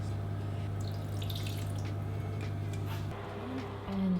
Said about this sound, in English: And I will add just a little bit of water to them.